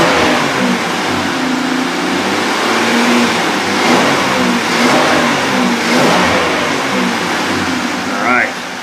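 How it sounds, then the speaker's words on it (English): A Buick LeSabre engine, being checked for a MAF sensor fault, revs up a couple of times from idle, the steady mid-pitched engine drone swelling and settling close by. "Give her a couple of rev ups."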